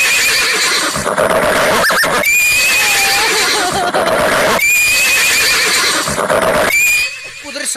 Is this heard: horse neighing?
yes